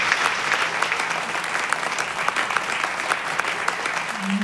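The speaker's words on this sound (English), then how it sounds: "Another round of applause for these two." An audience at a bookstore talk in Manhattan claps steadily, loud and close, a dense, continuous round of applause with no voices over it.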